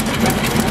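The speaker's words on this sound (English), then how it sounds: "That's a beautiful engine." A 110 HP Continental flywheel engine runs with a steady, dense low rumble and rapid even pulsing, loud and close, with no talk over it.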